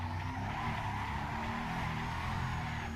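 A Koenigsegg One:1 sliding into oversteer in the Assetto Corsa racing game, with a continuous loud engine drone and tyre scrub holding steadily through the slide.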